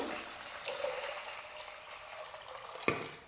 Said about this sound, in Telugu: ఇప్పుడు మనకు తగినంత వాటర్ వేసుకోవాలండి